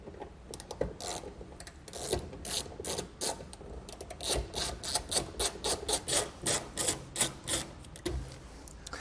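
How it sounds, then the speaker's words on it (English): A Torx screw being backed out of a tail light lens with a T15 driver gives repeated ratcheting clicks, a steady run of short close-up pulses that rises toward a regular rhythm, with no talking. "We're going to take these two Torx bits out and we're going to pull the lens out."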